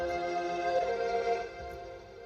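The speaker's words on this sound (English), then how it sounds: "A tape delay" A hip-hop type beat runs through a tape delay effect, sustained tonal chords with soft repeating echoes and a low thumping pulse, steady and moderately loud with no voices.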